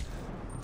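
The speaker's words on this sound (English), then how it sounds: "Let's see if we can shoot through this hole." Gunfire in Medal of Honor Warfighter, a dense, continuous burst of shots at steady loudness filling the whole short moment, with no talk over it.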